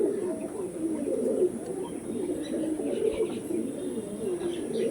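Pigeons coo continuously in low, throaty murmurs, several birds overlapping in a soft rolling drone, with a few faint chirps above.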